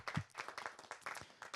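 Scattered applause from an audience at a lively Hindi poetry gathering, quick overlapping claps forming a soft, uneven patter at a modest distance.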